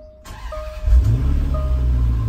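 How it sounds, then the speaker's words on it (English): A Range Rover starting by keyless push-button, with a short starter whirr that catches into a loud, close engine settling to a steady idle, heard alone without talk. "As you can hear, the car starts first time."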